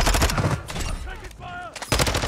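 Rapid automatic gunfire rattles loudly in Call of Duty Warzone in bursts at the start and end, with a brief quieter gap in between where a voice speaks.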